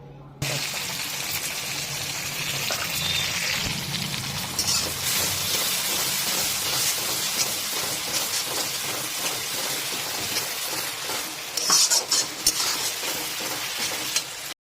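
Garlic and green chili paste with ginger paste fries among onions in a pan, a steady close sizzle with occasional stirring scrapes, and a voice talks quietly over it.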